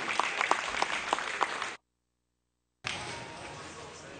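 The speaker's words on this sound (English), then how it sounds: "Let's give him another good round of applause." Audience clapping at a Holstein dairy cow show, a burst of steady applause that cuts out abruptly to silence for about a second, then resumes as continued clapping.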